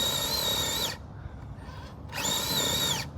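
A Losi Night Crawler RC rock crawler runs at full throttle with a high whining motor buzz. It holds for about a second, drops to a rumble, then surges back just as loud.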